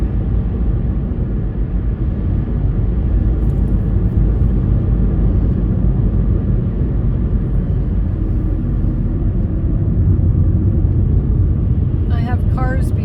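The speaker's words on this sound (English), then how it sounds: "I have cars behind me." Road traffic passes steadily behind someone outdoors in the green summer Naramata Valley, a continuous low rumble of cars that swells slightly near the end.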